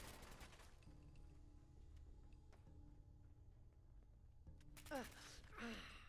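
An enemy minigun fires in Fallout 4's Nuka World, its rapid bursts faint beneath a steady game backdrop, with a sharper burst near the end and voices around it.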